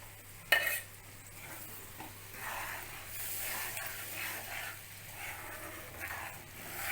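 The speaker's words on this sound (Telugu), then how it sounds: "నేను ఇందులో మిక్సీ పట్టిన టమాటో ప్యూరీ యాడ్ చేసేస్తున్నాను." Blended tomato puree sizzles and hisses in a hot pan over already-cooked ingredients for a home-cooked lunch, opening with a sharp splash as it goes in, then a steady, fairly close sizzle with stirring.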